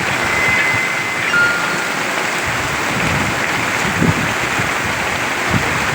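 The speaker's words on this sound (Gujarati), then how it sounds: "વરસાદનું આગમન થઈ ગયું છે ભાઈ" Heavy rain pours during a windstorm, drumming onto tarpaulins in a loud, steady, close wash of noise with no voices.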